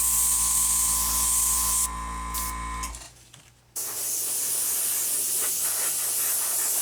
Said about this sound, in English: just blend everything together with a misting of a blending coat